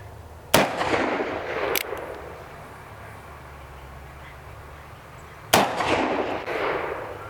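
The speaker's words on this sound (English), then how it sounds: "we're going to take 3 shots center mass at the silhouette target up there, full size silhouette." Three booming shots from an EMF 1851 Navy black powder revolver loaded with conical bullets, fired outdoors at a full-size silhouette target. Two come close together, then a pause before the third, each with a long echoing tail.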